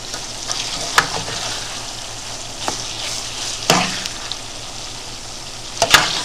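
Ground meat browning in a pan gives a steady broadband sizzle, punctuated by a few sharp scrapes and clatters of a utensil stirring it, close and loud with no talking.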